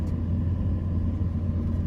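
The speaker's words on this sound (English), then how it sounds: "Driving on the beach." A 4-wheel drive vehicle driving along a beach, a steady low engine rumble and road drone heard from inside the cab, constant and fairly loud, with no talk.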